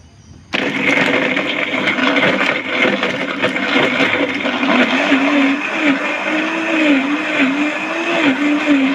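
An OTTO BE-128S blender roars on suddenly after a brief quiet start, then runs loud and steady with a wavering motor pitch as ice churns inside.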